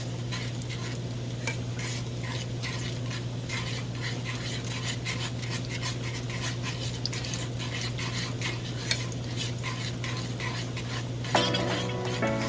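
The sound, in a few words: stirring cheese in a pot for asada fries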